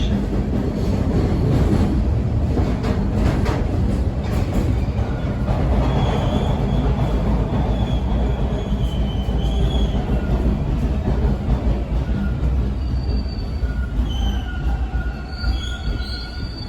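TTC T1 Bombardier subway car #5147 running on Line 2 near Islington Station, with a loud, continuous rattling and rumbling of wheels on rail throughout and faint high squeals of wheels against track.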